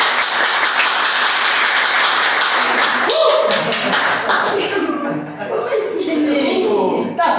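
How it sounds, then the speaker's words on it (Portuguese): A small studio group on a Brazilian podcast claps rhythmically for a joke, the clapping close and loud at first, then fading into chuckles and laughter mixed with talk. "a gente aplaude"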